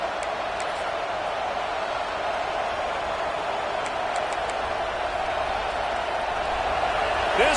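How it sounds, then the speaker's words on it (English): Football stadium crowd in the College Football 26 video game keeps up a steady, loud roar, an even wash of noise throughout that swells slightly at the end with faint talk beneath. "This crowd bringing the energy and noise early."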